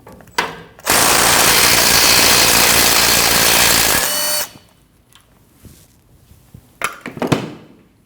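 Power tool spinning off the 14mm emergency brake cable bolt on a Nissan NV2500, one loud sustained whirring burst of about three seconds, followed by quieter clicks and metallic rattling, then a short second buzz.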